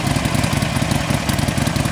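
A 2019 Harley-Davidson Sportster Forty-Eight with a 1200cc Evolution V-twin and chrome exhaust idles close by, its loud, lumpy low-end pulse thumping steadily on its own.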